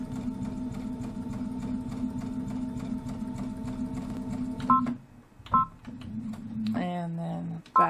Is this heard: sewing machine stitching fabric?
yes